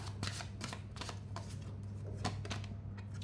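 Tarot cards being shuffled and drawn, a quick run of crisp riffling flicks and soft slaps repeating in bursts, close and fairly quiet over a low steady hum, with no voice.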